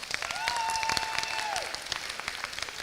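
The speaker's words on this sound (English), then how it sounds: "Give yourself a round of applause" An audience at a FIRST Tech Challenge robotics competition applauds, a steady wash of clapping at moderate distance lasting a few seconds, with a brief whistle-like tone over it.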